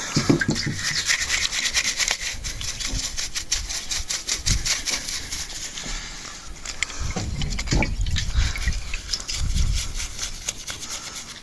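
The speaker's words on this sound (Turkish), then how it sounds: "Bütün deliklerini benzinle temizliyoruz şu an." Gasoline is worked through the holes of a motorcycle carburetor, giving steady wet rubbing, swishing and scrubbing close by, with a denser burst of liquid brushing partway through.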